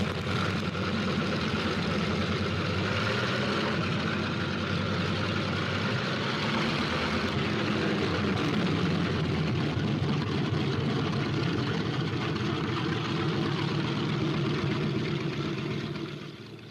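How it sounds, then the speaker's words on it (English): Propeller aircraft engines drone and idle steadily on the ground, a dense continuous roar that holds throughout before easing slightly at the end. "On the field, planes warm up."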